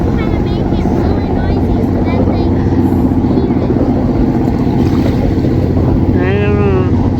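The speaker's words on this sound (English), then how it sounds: "It's a noisy boat." A loud, droning boat engine runs steadily throughout, with wind buffeting the microphone and a voice briefly heard over the noise.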